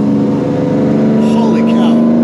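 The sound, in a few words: Lamborghini Diablo engine revving on canyon road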